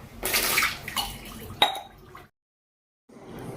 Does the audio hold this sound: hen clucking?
no